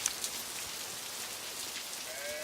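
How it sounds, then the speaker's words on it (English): Steady rain patters on surfaces all around, a dense continuous hiss with scattered drops, with a faint whistling tone rising near the end. "All around they could hear the rain pattering"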